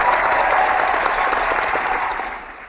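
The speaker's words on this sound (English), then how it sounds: "Let's give them a round of applause." Audience applause closes a tennis fan podcast episode, a steady, dense wash of clapping that holds evenly and then fades away toward the end, with no talking over it.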